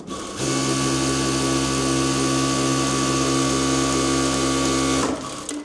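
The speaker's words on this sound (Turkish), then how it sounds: "Şöyle 4 kat ve şöyle ek yerlerin olduğu bir kot kumaşım var. Makineyi hemen dönüyorum." A Juki DDL-900C industrial straight-stitch sewing machine sews through four layers of denim with joined seams, giving a steady, even motor whir with a fast stitching buzz that runs unbroken for about four and a half seconds, then stops.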